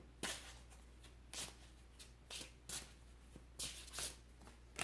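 Tarot cards being shuffled and drawn from the deck: quiet bursts of riffling and flicking paper cards at irregular intervals, close and soft against a faint background hum, with no talking.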